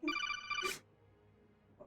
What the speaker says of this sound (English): just hearing the ringtone